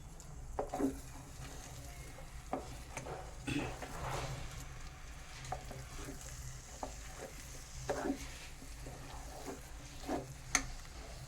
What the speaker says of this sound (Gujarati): ઘી છૂટું પડે એ રીતે ધીમે ધીમે હલાવતા જાઓ.